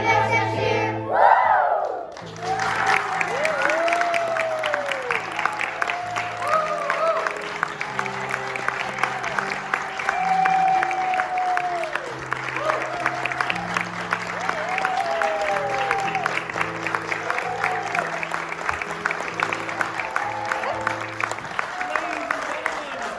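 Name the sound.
audience applause for children's theatre cast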